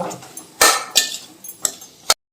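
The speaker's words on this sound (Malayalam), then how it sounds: "ഇതിലേക്ക് നമ്മൾ വേവിച്ച് വെച്ചിരിക്കുന്ന പാസ്ത അങ്ങോട്ട് ഇടുന്നു. നല്ലപോലെ ഇളക്കി യോജിപ്പിക്കുക." Cooked pasta is stirred in a pan with a metal utensil, giving four or five sharp clinks and scrapes against the pan over a couple of seconds, close and fairly loud, with no talking.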